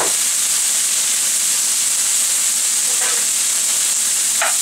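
Chopped onions and a clove of garlic sizzle steadily in a hot pan, a constant bright frying hiss with occasional scraping stirs, no voices over it.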